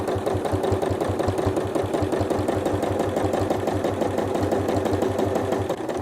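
A sewing machine runs steadily for machine quilting with a ruler, its fast, even stitching rhythm holding close and constant the whole time, with no one talking.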